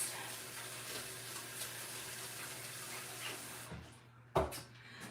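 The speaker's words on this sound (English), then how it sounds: "Give them a nice little rinse." Hands are rinsed under a running kitchen tap during pizza preparation, a steady close rush of water that stops near the end, followed by a brief splash or clatter.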